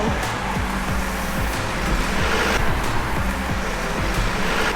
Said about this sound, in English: Let's just wait for all this traffic to pass.